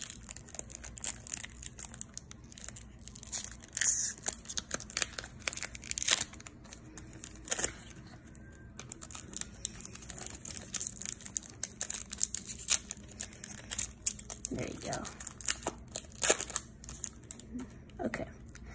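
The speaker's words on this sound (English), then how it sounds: "we'll open this first, this opening day 2019 baseball pack" A 2019 Opening Day baseball card pack is torn open, with faint crinkling foil and soft tearing rustles and clicks scattered over a quiet background.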